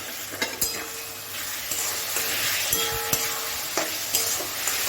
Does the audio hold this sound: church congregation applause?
no